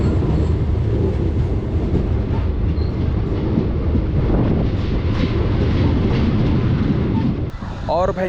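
The Bilaspur Korba Passenger Express rumbles along at speed, with a steady clickety-clack of wheels on rail and a loud continuous roar, while people talk faintly through the noise.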